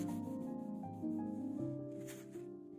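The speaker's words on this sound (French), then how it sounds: "Pour effacer, on a juste à utiliser un petit chiffon avec un peu d'alcool." A cloth dampened with alcohol rubs a seed label, giving quiet, repeated short scrubbing strokes close up, with faint tonal background hum.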